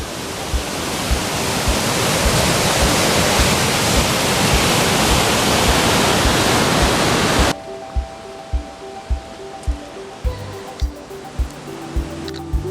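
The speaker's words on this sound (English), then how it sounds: "In the words of the late Terrence McKenna, if you want a teacher, try a waterfall" A powerful waterfall in the High Sierra mountains along the Pacific Crest Trail, a loud, dense roar of rushing water for several seconds, then cutting to a quieter trail scene with rhythmic footsteps.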